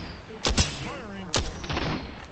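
Two sharp video-game gunshots, about a second apart, crack out over a faint background in a competitive match, with voices audible alongside.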